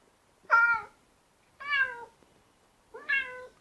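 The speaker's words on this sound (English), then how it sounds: "A cat sounds like this." Three separate meows from a cat, played back through a smart speaker, each a clear tonal cry with gaps of silence between, moderately loud and alone with no talk.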